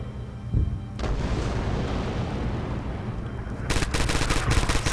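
PPSh submachine gun fire in a video game tournament match, bursts of rapid gunfire at long range, a booming shot near the start, dense crackling shots throughout and a sharp rattling volley near the end.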